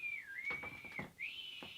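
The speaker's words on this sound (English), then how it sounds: "So hopefully you can hear that little whistle coming from somebody." A person in a live audience whistles as fan feedback, one sustained, fairly faint tone that dips and rises in pitch, with light thumps beneath it.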